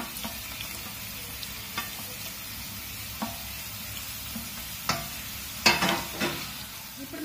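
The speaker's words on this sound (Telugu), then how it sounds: "ఉల్లిపాయలని కాసేపు వేయించుకుందాం." Onions fry in a pan for a coconut dry prawn curry, a continuous close sizzle broken by occasional scrapes and clinks of a stirring spoon, with a louder burst of stirring near the end.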